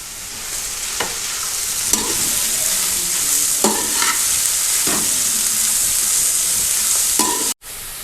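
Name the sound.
frying cabbage, capsicum and carrot in a pan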